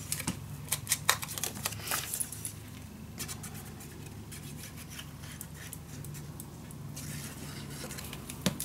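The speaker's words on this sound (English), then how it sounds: "Just cutting a little piece off till it fits." Paper trimmed down to fit a vintage winter mini album, heard as quiet, irregular snips and rustling handling noises close by, with no talking.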